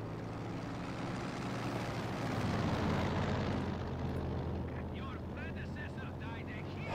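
Planes in the strategy game Company of Heroes 2 flying over, a loud rushing engine drone that swells in the middle and fades, with someone talking over the last part.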